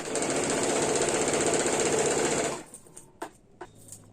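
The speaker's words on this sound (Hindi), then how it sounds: "हम लोग कोई भी तरह का सिलाई डालेंगे उसमें हम लोग हमेशा डबल सिलाई का ही प्रयोग करेंगे" A sewing machine stitching fabric for a kurti runs in a steady, fast whirring rattle for about two and a half seconds, then stops, leaving a few faint clicks and handling noises.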